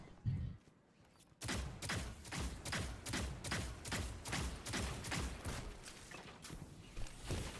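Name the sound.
gunfire in the video game Destiny 2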